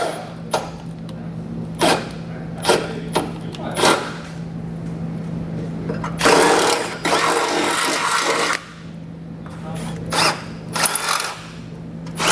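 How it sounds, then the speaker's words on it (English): A power drill drills a hole in a 2012 car frame for a Roadmaster base plate, whirring in a sustained burst under a steady hum, with scattered clicks and knocks before and after; a voice speaks briefly. "we'll take our drill and get this opened up."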